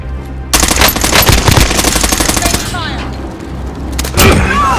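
Rapid bursts of automatic gunfire and thumping explosions in a Call of Duty: Warzone match, loud and close, with a pause and another burst near the end, over a busy game soundscape.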